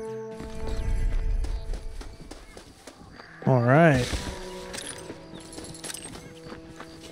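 A horse in the Red Dead Redemption video game clops along with hoofbeats, snorts and a whinny partway through, while someone briefly talks over the game sounds.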